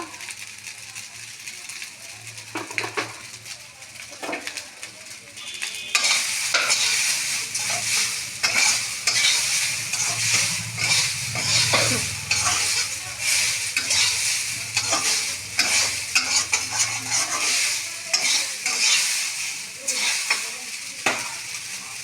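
Fried vegetarian ingredients stirred into pasta in a hot pan, with a quieter start giving way to a steady loud sizzle and rhythmic scraping strokes of the spoon throughout.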